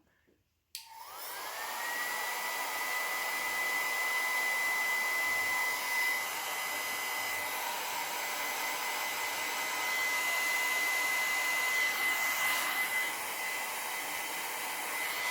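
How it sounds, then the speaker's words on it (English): After a brief quiet start, a hair dryer switches on and blows with a steady, loud whine and rushing air that continues without break. "I'm just using just a hair dryer."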